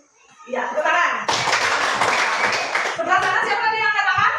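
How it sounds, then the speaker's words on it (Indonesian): Children in a classroom break into a short burst of clapping after the teacher's prompt, the brisk claps set between spoken voices. "Iya, tepuk tangan."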